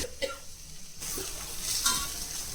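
Masala for a fish curry roasting in oil in a pan, a brief quiet stretch and then a burst of loud sizzling with metallic scraping and clinks of a utensil, close and without talk.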